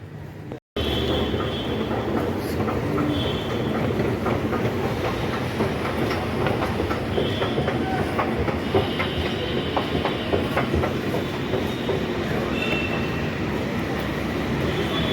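A Delhi metro train at Lajpat Nagar station, a loud continuous rumble with clickety-clack wheel rhythm and faint squeals, heard steadily from close by after a brief cut near the start.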